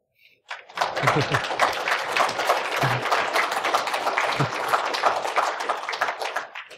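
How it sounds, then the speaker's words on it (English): An audience at a security conference talk breaks into clapping after a faint moment of quiet. The applause is dense, steady and close, with a few low thumps, and fades slightly toward the end. "Okay, everyone clap."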